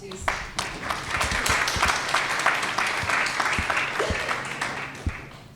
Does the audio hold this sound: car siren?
no